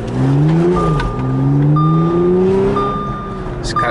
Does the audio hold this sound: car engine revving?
yes